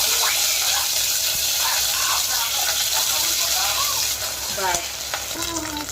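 Mustard paste and mustard seeds cook in hot mustard oil in a pan, giving a dense steady sizzle and hiss throughout, with a few faint voices talking underneath.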